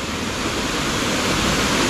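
A strong waterfall of cold spring water pours down on a mountaintop, making a dense, loud, continuous roar of falling water that stays steady throughout with no voices.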